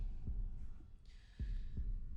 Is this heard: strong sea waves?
no